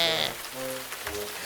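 Cartoon rain patters on the ground in a brief, steady wash during a Honey Bunny jungle adventure, with faint voice-like tones drifting over it.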